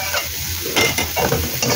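Onion frying with garlic in a pan, a busy crackling sizzle with scraping stir strokes breaking through at intervals, close and fairly loud throughout.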